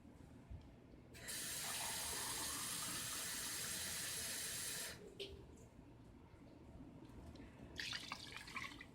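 Liquid is poured into a pot to cook Spanish rice, a few seconds of steady splashing near the microphone, then a quieter pause and a second shorter pour.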